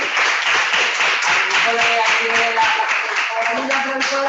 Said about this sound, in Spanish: Vamos a darle un aplauso como se merece